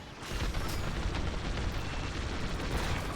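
The A-Wing's rapid fire cannon in the Star Wars Squadrons space-combat game roars as a dense, continuous barrage of blasts, loud and close, with a sustained rumbling wash of fire that never pauses.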